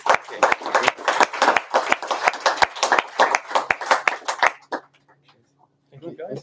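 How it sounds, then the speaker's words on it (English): A small audience claps for speakers at a public services talk, sparse distinct handclaps at close range that stop after about five seconds, followed by quiet and a brief voice. "I hope you join me in giving a warm round of applause to our speakers."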